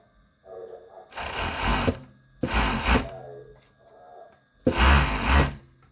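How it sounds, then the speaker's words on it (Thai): A sewing machine fitted with a blade presser foot trims fabric in three short bursts, its fast whirring stitch close and loud, with quiet pauses in between. "เราก็ใช้ตีนผีใบมีดเนี่ยให้ตัดเข้ามา หนึ่งนิ้วเลย"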